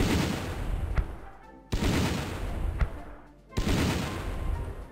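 Gunfire and mortar fire in the WWII strategy game Battle Academy, set in woods: dense continuous crackling fusillade with sharp shots, broken by two abrupt drops and restarts, loud and steady with no talk.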